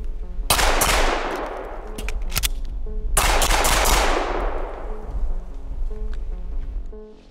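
Two rapid strings of PSA Dagger full-size 9mm pistol shots fired during a range drill, each burst loud and close with sharp cracks and ringing echo tails, separated by a short pause.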